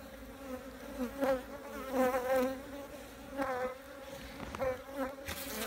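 Carniolan honey bees hum around beehives, a steady drone with swelling and fading buzzes as individual bees pass near, soft and continuous with no voices.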